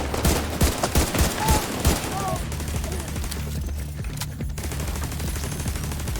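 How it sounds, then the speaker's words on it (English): Turret gunfire in The Division 2 video game, a dense rattling fusillade of rapid automatic shots that fills the scene continuously, loud and close, with heavier bursts early on and faint game voices mixed in. "Why is the turret shooting a speaker?"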